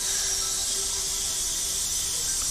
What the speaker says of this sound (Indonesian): Sang guru pun menyuruh mereka untuk mendesis supaya tenggorokan mereka tidak selip saat bernyanyi